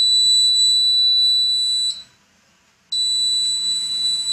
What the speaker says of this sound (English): the buzzer will sound and we will get the notice.